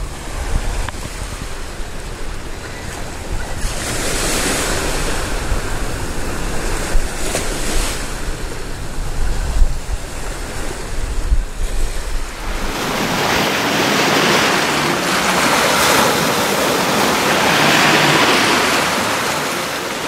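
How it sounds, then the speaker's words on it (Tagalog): Sea waves roll and break along the shore at Pontian, facing Singapore, mixed with steady wind; a continuous close wash of surf swells louder in the second half. "Nandito naman tayo sa tapat ng dagat. Nakikita nyo yung mga alon na yan."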